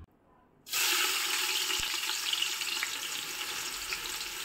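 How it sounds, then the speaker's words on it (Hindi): Two large sliced onions dropped into about 100 grams of hot oil burst into a loud, sudden sizzle after a brief quiet moment, then hiss steadily and densely up close, no talking. "यहाँ पे देखिए मैंने 100 ग्राम के करीब तेल डाला है"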